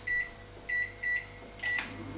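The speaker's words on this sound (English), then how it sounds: "you stick them in the microwave for 1 minute" A microwave oven heating dinner plates hums steadily while a few short electronic beeps sound in an even pattern, ending with a brief clatter like the door being handled.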